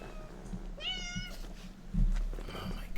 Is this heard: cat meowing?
yes